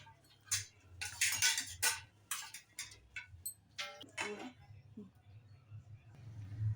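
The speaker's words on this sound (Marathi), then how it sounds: "5 मिनटं फेटून घेऊया" A whisk beats thick maida bonda batter in a bowl, giving quick, uneven clicking taps close by against a low background hum.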